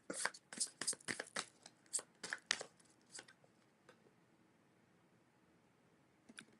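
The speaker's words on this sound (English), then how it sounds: "I'm going to shuffle the chunk." A chunk of oracle cards is shuffled by hand, a quick run of close crisp riffling snaps over the first few seconds that thins out into quiet, with one last soft flutter at the end.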